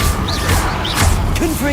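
A fire spell cast in the game Hogwarts Legacy, a loud rushing whoosh with crackling bursts and short impact thuds, dense and close, with brief vocal sounds from players mixed in.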